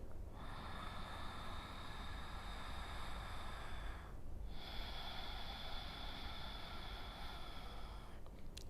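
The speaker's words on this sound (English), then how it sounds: "Take 5 deep breaths here. Inhale in. Exhale out." Slow, deep breathing during a seated yoga posture: a long airy inhale, a short pause near the middle, then a long exhale, close and soft against faint background noise.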